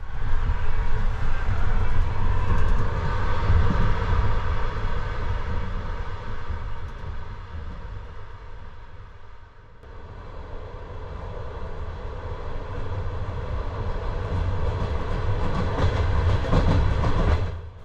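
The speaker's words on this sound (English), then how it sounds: "settle down for our first night of 3 aboard my longest ever train journey" Long-distance train crossing Kazakhstan at night: a steady, loud rolling roar of carriage wheels and rails, with a continuous broadband rumble that dips briefly midway and then builds again, faint clickety-clack in the mix.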